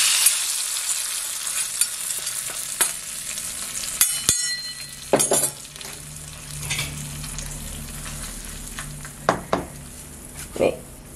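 Liquid poured into a hot pan on a kitchen stove bursts into a loud, steady frying hiss, broken by occasional clinks of utensils against the pan and faint background voices.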